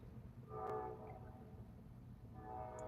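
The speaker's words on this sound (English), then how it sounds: "Bless the train in the background." A train sounds in the background, its horn rising briefly and then fading under a steady low rumble, faint and distant, with no talking.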